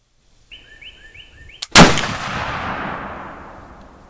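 A muzzleloader rifle fires a single loud, sharp shot using Triple Seven pellets, preceded by a few soft bird chirps and followed by a long fading outdoor echo.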